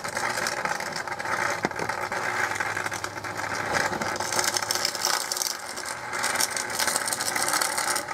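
A severely overloaded electric pump motor grinds and rattles with a seizing shaft, a harsh continuous mechanical racket with ratcheting clatter that stays loud and steady throughout.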